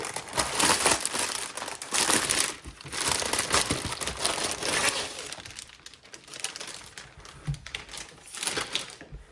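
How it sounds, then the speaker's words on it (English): Crinkly plastic packaging for a cross-stitch kit is torn and handled during an unboxing, loud close rustling and crackling in irregular bursts that gradually thin out toward the end. "let me go ahead and get this open. It's going to be a little bit crinkly noisy"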